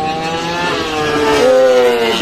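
A Ducati MotoGP racing motorcycle screams past at the 2023 MotoGP Bharat race, its high engine note sweeping steadily across the track, loud and close, with no talk over it.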